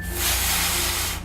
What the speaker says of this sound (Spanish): También podéis hinchar unos cuantos globos